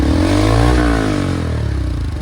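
A Bajaj Pulsar NS fitted with an aftermarket full-system exhaust and a dB killer revs loud and close, its pitch climbing and then easing off in one sweeping, raspy burst with no voices.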